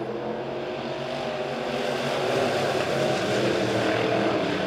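Midwest Modified race cars at Springfield Raceway take the green flag, making a dense, steady engine roar that swells and grows louder partway through. The cars sound somewhat distant and there is no talking.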